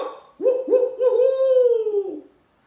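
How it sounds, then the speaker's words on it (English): Barred owl giving its rhythmic hooting call, a series of loud, close hoots rising into a long drawn-out final note, with no talking. "The barred owl love song."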